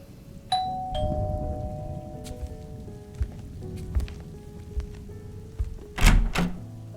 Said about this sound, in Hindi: तभी मेरे रूम की घंटी बजी।